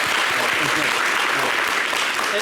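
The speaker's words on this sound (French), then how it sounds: "Applaudissez pour les femmes, c'est important." A television studio audience applauds on a French local talk show, producing dense, even clapping that stays loud and steady throughout.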